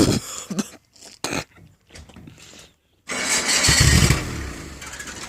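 A 1985 Nissan truck engine cold-starting: a few short cranking bursts with gaps, then the engine catches and runs loudly and roughly for a couple of seconds before settling into a steady idle.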